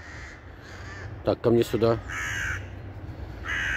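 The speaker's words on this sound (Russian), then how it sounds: "вот ворона мне дает покоя" A crow caws near a person walking a dog outdoors: a series of three harsh, loud caws in quick succession midway, with a voice speaking before and after them.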